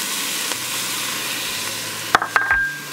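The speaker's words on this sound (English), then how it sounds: "So we're just gonna work on sauteing this down." Garlic and parsley sauteing in a pan, a steady broadband hiss of frying throughout, with a few sharp utensil clinks and scrapes near the end, close and with no talking.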